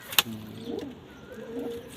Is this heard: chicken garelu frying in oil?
no